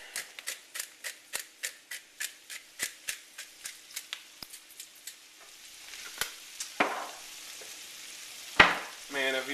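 Squash and onions fry in a pan, Southern style, with a quick run of crisp, regular scraping stirs over a faint sizzle, slowing into sparser clatters and a few louder knocks near the end.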